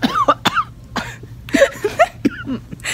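Several short coughs and throat-clearing bursts come in quick irregular succession, close and loud, with a low hum beneath.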